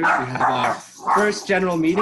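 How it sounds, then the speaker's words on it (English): A dog barks and yips loudly and close by during a Zoom meeting, several sharp bursts mixed with a person speaking at the same time. "excuse the dog"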